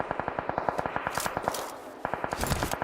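Rapid automatic gunfire in the mobile battle royale game PUBG Mobile during a tournament match, a steady stream of evenly spaced shots, loud and close, continuing almost without a break.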